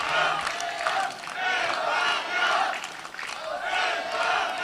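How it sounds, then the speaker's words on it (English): A Spanish crowd at the European 3D archery team finals in Maribor chants "España" in loud rhythmic waves, each call swelling and fading, with cheering around it. "the Spanish crowd are cheering España, España, waving the flags"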